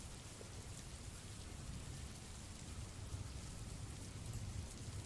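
Steady rain pours throughout a scene in a Doki Doki Literature Club mod, a dense, even hiss of falling water with no voices.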